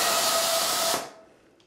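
A pink 350 balloon being inflated halfway for a balloon animal, heard as a steady loud airy hiss from a pump that cuts off abruptly, followed by a brief faint rustle.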